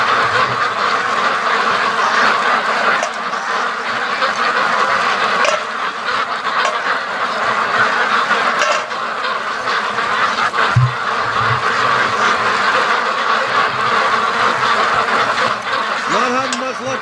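A flock of free-range ducks quacks continuously as they rush out in the morning toward a lake. The dense, busy chatter stays close and loud throughout, with a person speaking briefly over it.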